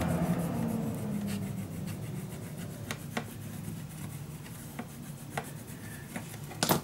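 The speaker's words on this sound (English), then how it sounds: "But let me first burnish this down." Paper being burnished down onto chipboard while making a secret storage book: soft, close rubbing strokes with scattered light taps and scrapes, fairly quiet and without voices.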